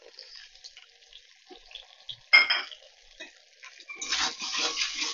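Tomato and spices frying in a pan, with a spoon scraping and clinking against the metal and soft sizzling that swells toward the end, close and without talk.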